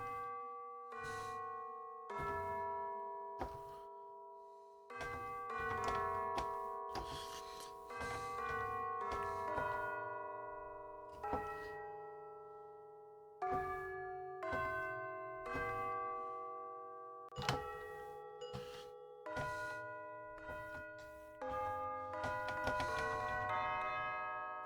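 Two bells are played as part of a music composition, struck in a slow sequence of clear, ringing tones that sustain and overlap, quiet and close, with no talking over the notes.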